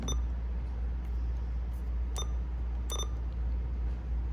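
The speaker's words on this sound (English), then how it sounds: "We can turn the beep off." A pair of short electronic beeps from a Road King RKCBBT Bluetooth CB radio, then another pair a moment later, over a steady low engine hum in a quiet cab.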